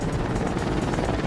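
A tiny player-built helicopter flies in Trailmakers, its rotor producing a loud, continuous chopping whir that stays close and steady throughout.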